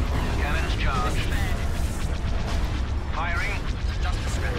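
Repeated booming cannon blasts with bursts and whooshes over a dense roar of game effects, with voices talking over the action.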